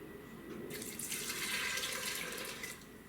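Two cups of water poured into a cooking pot for daal makhani make a steady, close splashing stream that lasts about two seconds before tapering off.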